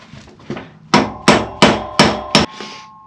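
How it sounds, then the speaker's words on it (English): Five sharp, evenly spaced hammer taps ring out on a metal Honda CB350F motorcycle part during bolt and washer work. Each strike is loud and close, with a short metallic ring, and a couple of softer knocks come before them. "But what I'll do is I'll give it a tap."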